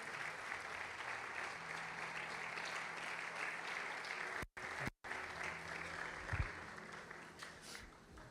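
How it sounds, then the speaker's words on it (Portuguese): A church congregation applauds in praise during a Portuguese-language service, steady dense clapping that is fairly faint and distant, broken by two brief dropouts midway. "Pode se assentar, por favor, aplaudindo a Jesus."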